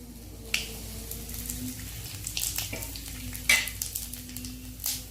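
Curry leaves and a pinch of asafoetida crackle in hot oil for a karachutney, with sharp spluttering pops over a continuous sizzle and a few faint utensil clicks.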